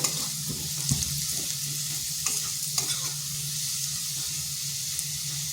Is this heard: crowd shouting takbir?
no